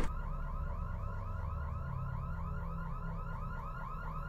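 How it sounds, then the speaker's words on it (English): A car alarm wails in repeating rising and falling whoops, steady and fairly loud for the whole span, with a low rumble underneath and no talk. "That's a car alarm?"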